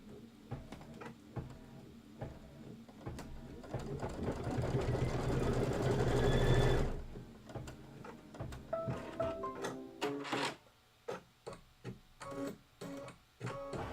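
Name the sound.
embroidery sewing machine stitching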